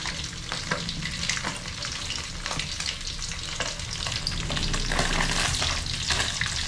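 Galunggong fish sizzles loudly in hot oil in a pan, a dense crackling and spitting that builds slightly toward the end, close up with no talking.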